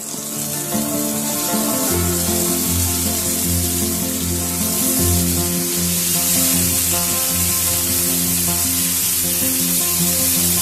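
Pieces of fish laid into hot coconut oil for Mangaluru masala fish fry sizzle loudly and steadily, a close, continuous hiss and crackle that swells slightly as more pieces go in, with background music and no talk.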